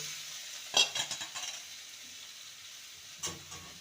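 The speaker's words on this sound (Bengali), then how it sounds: "এবার ভেজে রাখা আলুর টুকরোগুলো দিয়ে দেব" Fried potato pieces are tossed and stir-fried in spicy masala, with a soft background sizzle under a quick burst of spoon scrapes early on and one more scrape near the end.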